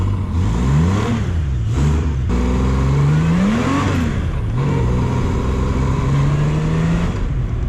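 Volvo XC70 engine revving loudly up and down several times, then holding a steady higher drone, close and continuous with no talk over it.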